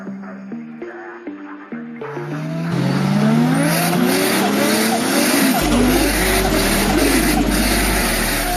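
Race cars launching at the start of a heat race: engines rise in pitch with gear changes, then a loud roaring pack of motors with squealing tires fills the scene, close and continuous.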